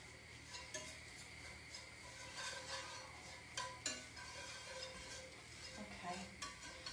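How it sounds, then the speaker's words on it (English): Stirring flour into a hot pan for cauliflower mac and cheese, soft scraping and occasional utensil clinks against the pan over a faint steady sizzle, close and quiet. "And then just literally stir it in."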